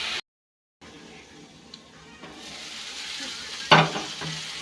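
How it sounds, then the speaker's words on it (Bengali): Spices with turmeric and salt frying in a pan, giving a soft sizzle after a brief silence, with a few light scraping stirs and a sharper clatter near the end. "এখন ভেজে নিই মশলাটা।"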